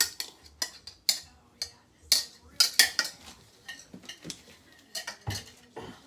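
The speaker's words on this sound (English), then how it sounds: "I will still mix it with my hand." Apple cinnamon scone dough being mixed by hand in a bowl, with a steady run of close, sharp clinks and clatters of bowl and utensils, irregular and spaced about every half second.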